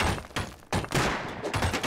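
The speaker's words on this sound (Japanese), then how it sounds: "今銃声したとこかな" Rapid bursts of gunfire in the survival video game Rust, a loud fusillade of repeated shots in clustered volleys, close and dominant with no talk over it.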